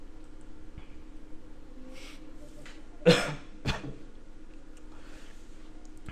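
A single sharp cough in a quiet room, followed by a smaller throat-clearing cough a moment later.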